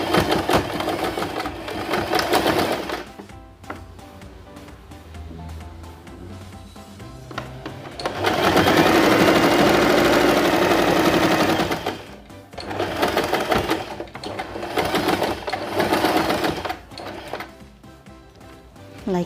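A sewing machine stitches a baby turban hat and bow together along the seam line, with loud close whirring runs broken by short stops and restarts, with no talking.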